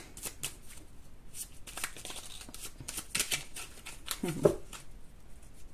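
Oracle cards being handled and shuffled at close range, a run of quick papery riffles and soft slaps with a firmer tap near the end, no voices over them.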